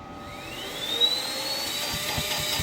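A Milwaukee M18 cordless blower running in reverse to suck air and deflate, a steady whooshing motor roar with a rising whine that climbs in pitch, close and continuous without talk.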